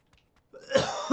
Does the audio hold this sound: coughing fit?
yes